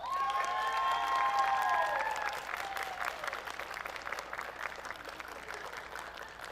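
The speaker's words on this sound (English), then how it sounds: "Let's give Keely and her family a round of applause." An audience applauding at the Texas 4-H Roundup, steady clapping from a crowd that starts full and gradually thins, with faint voices underneath.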